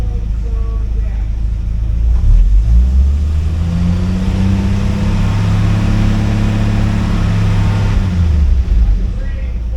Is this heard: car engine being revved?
yes